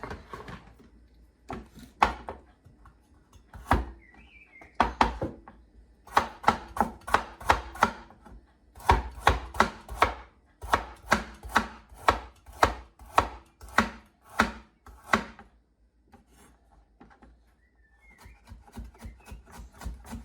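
A knife chops carrot on a cutting board in quick, evenly spaced bursts of sharp knocks, with short pauses between runs, close and clear with no talking.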